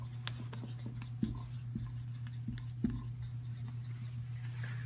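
Pen or pencil scratching out notes by hand during a children's science lesson on scuba diving physics, short strokes and taps in a steady rhythm over a constant low hum, close and fairly quiet.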